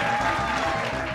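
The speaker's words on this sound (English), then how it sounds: "I'm playing my own applause" A short burst of canned crowd applause plays during a speedrun event team draft broadcast, a steady wash of clapping that holds level throughout.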